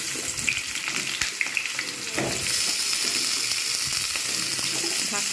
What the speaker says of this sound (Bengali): ঢাকনা দিয়ে আলুটাকে খুব ভালোভাবে ভাজবো